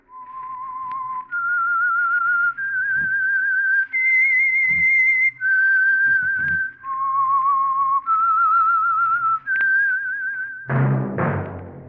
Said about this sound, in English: That whistle is your signal